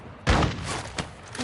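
A single loud shotgun blast in Call of Duty MW2 DMZ, a sharp close report followed by a softer second thump and trailing echo.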